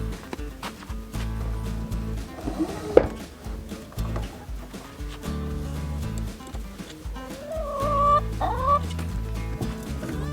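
Several chickens cluck and murmur nearby in an irregular chorus, with a few sharper squawks and higher calls rising toward the end.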